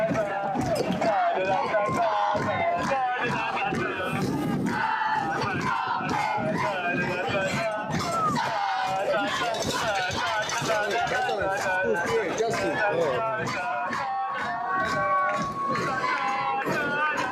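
A high school varsity football crowd chants and cheers along with cheerleaders and a spirit leader, a dense, continuous roar of many voices, with rhythmic shouts throughout.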